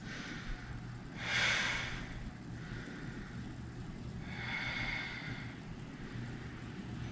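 Slow, deep breaths during yoga mountain pose: two audible airy exhales a few seconds apart, soft and close, over quiet background hum with no talking.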